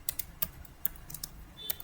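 Someone types a command on a computer keyboard to query a network switch, with quick clicking keystrokes in short bursts and small gaps, close and moderately quiet, no talking.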